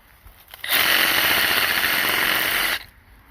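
A Milwaukee M12 Fuel brushless hacksaw cuts through a drooping tree branch outdoors in one loud, steady buzzing run of about two seconds, starting and stopping abruptly against quiet surroundings.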